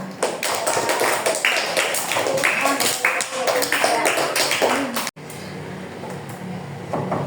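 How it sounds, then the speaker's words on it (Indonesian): A classroom of students claps hands together for about five seconds, a dense, lively patter of many hands close by that stops abruptly, leaving quieter room noise. "Tepuk tangan semua."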